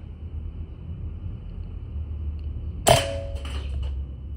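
Single sharp crack of a PCP B57 4.5mm air rifle firing at a hanging can outdoors, followed by a brief metallic ring and short rattling decay, heard alone over low background rumble.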